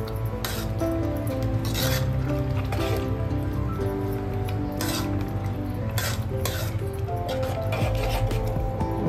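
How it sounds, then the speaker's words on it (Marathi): Khoya being stirred into carrot halwa in a pan over low heat, a steady scraping and rubbing of spoon against metal with soft squishing, continuous and close. "टाकलेला खवा मिक्स करते."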